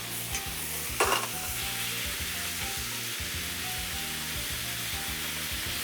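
Pork and onions stir-fried together in a hot pan for ginger pork, a steady loud sizzle with scraping stirs and a brief utensil clatter near the start.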